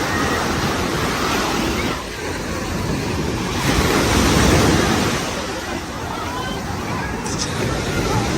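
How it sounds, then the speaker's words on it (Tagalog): Steady rushing surf with wind buffeting the microphone, waves swelling and easing continuously, loud and close with faint voices in the background. "Ito yung simpleng dagat sa amin."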